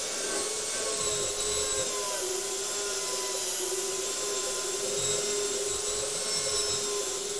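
A CBN grinding wheel spins with a steady, close, high-pitched whine, and a tool pressed lightly against it adds a continuous gritty rubbing that swells slightly now and then. No one talks.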